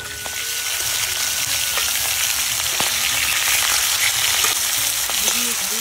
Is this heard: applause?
no